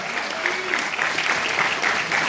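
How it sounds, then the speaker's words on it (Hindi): Audience applause at a performance of the theatre play Uttarramcharit, a continuous dense wash of clapping from a crowd, loud and even throughout with no talk over it. "तालियां बजती रहनी चाहिए साथियों।"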